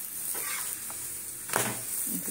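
Onion and coriander paratha fries in a little oil, a close steady sizzle broken by sudden bursts of oil spattering, with a louder crackling flare midway.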